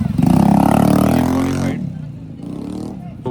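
A Honda motorcycle at a hill station revs loudly and close with a rough throbbing engine note, then drops away to a quieter idle. Someone talks nearby.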